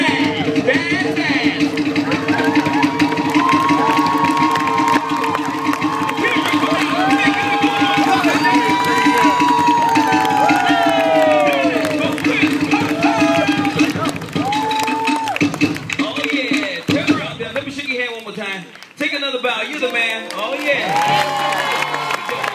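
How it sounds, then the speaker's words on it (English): A luau crowd claps, cheers and whoops loudly for several seconds, with excited voices carrying over the applause before it thins into scattered calls and chatter. "Give me a round of applause."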